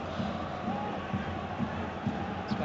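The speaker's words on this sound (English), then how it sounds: "Yeah, he gets like a cheer there he just did for his goal." A football stadium crowd at a Rangers versus Hibernian match cheers a sliding challenge with a broad, distant roar that holds steady, partly under a commentator's voice.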